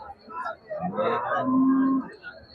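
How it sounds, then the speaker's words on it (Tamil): A Holstein Friesian cow at a busy cattle market gives a single low moo lasting about a second, moderately near, amid faint background crowd noise. "இது பாருங்க ஹெச்எப் மாடு ஒரு கொம்பு டைப் மாடு தான் அளவான மாடு தான்"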